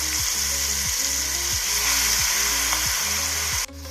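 Homemade chutney with asafoetida frying in hot oil on a low flame, a loud, steady close sizzle with a rhythmic low mechanical throb beneath, ending in a sudden drop near the end.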